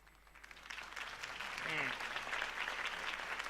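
Crowd applause after a campaign speech in Batman: The Telltale Series, rising from soft clapping to a fuller, steady ovation, with faint voices and background tones underneath.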